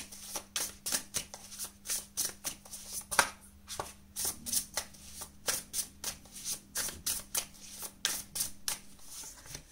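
Tarot cards being shuffled and drawn, a steady series of crisp riffling and flicking bursts in an even rhythm, close and fairly quiet, with no talking.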